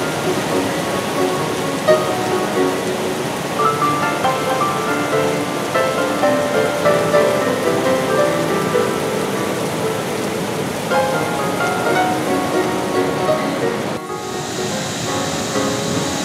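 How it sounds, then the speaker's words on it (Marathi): A monsoon waterfall swollen by heavy rain pours in a steady, dense roar of rushing water that stays loud and unbroken throughout, dipping slightly near the end, with no voices. "त्यामुळे जिल्ह्यातील अनेक धबधबेही प्रवाहित झाल्यात"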